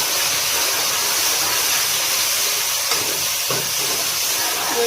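Cumin and onion sizzle in a pan, a loud, close, continuous hiss filling the whole moment with little variation and no talking.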